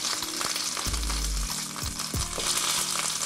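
Ahi tuna searing in olive oil in a pan, a loud continuous close sizzle with occasional scrapes and thumps as the fish is flipped and moved.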